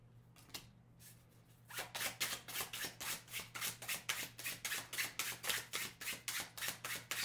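Tarot cards being shuffled during a reading, a quick train of crisp riffling flicks in a steady rhythm after a brief pause, close and fairly loud with no talking.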